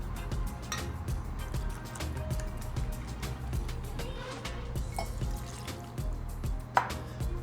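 Patrón Silver tequila pours into a shaker for a mango margarita, a soft liquid trickle with small drips and light clinks, close and quiet.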